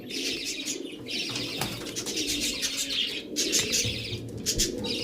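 An Oman teddy pigeon coos nearby, low, throaty and repeated, with brighter chirps and a brief flutter of wings over it.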